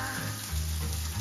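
Asparagus spears frying in butter in a skillet give a steady, close, dense sizzle that holds evenly throughout, with no talking.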